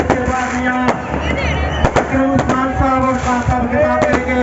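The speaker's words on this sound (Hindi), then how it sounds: "और ये देखें खूबसूरत आतिशबाजी का नज़ारा" Fireworks burst at a PTI political rally, sharp cracks standing out over a dense roar of crowd noise and wind, loud and continuous, with people talking throughout.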